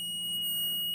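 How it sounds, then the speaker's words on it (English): A multimeter set to continuity test beeps as the circuit closes, giving one steady, high electronic tone that holds for about a second, clear and close, with no speech. "so when the circuit's closed, it'll beep."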